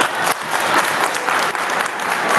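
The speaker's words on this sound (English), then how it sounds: "You deserve a clap." A secondary school class bursts into brief, loud, close applause during a physics session, a dense burst of many hands clapping at once.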